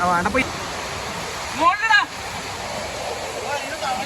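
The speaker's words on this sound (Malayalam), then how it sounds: "എടാ ഇത്രയും ഈ ഒരു വെള്ളച്ചാട്ടത്തിന് നടുക്കില്ല" A waterfall at a resort gives a steady broadband rush of falling water up close, with brief splashes and a short burst of voices or whistling partway through.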